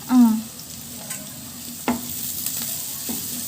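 Curry leaves hit hot oil in a pan with sautéing shallots, giving a brief loud crackle followed by a steady close sizzle and a few soft stirring scrapes, with no talking.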